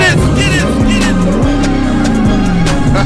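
Dodge Demon engine revving hard, a loud, steady, close roar with rising and falling pitch sweeps, and a voice briefly audible over it.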